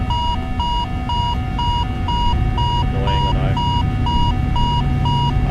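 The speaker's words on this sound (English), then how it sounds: "He's going to get that alarm at the door" Door alarm in the PMDG 777F cockpit in MSFS 2024, a loud repeating electronic beep pulsing at a steady quick rhythm over engine and cockpit hum, with no voices.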